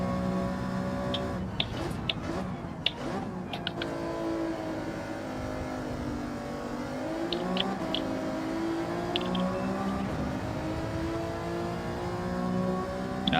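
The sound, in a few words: race car engine in Gran Turismo 7 video game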